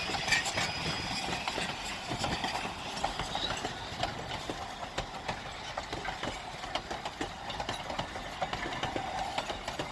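A 2-8-2 steam locomotive chugs steadily with rapid, rhythmic chuffs, loud and continuous, like a train running at speed with no voices, in the San Juan Mountains of Colorado.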